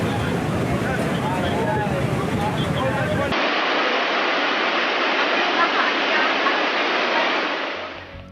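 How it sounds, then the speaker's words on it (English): Ferocious flood water roars through a village after a dam failure, a loud continuous rushing torrent that drops to a steadier surging wash partway through, fading slightly at the end. "the moment the ferocious water flow attacked the area was caught on camera"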